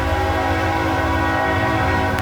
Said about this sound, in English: Yeah, that's my train, everybody.